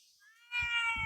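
A cat meows, a clear tonal cry that rises and holds near the listener, followed by low rumbling handling noise.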